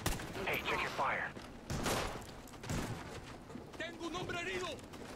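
Gunfire in Call of Duty Ghosts, in the No Man's Land mission: bursts of automatic shots and heavy blasts, fairly quiet and distant, with voices and radio chatter in between.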